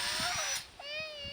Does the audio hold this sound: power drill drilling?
yes